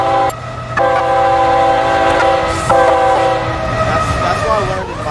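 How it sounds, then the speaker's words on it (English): Train horn from a Roblox game, a loud sustained multi-tone chord that sounds almost continuously with a brief gap near the start, steady and near. "So let the train horn honk, and then we'll talk."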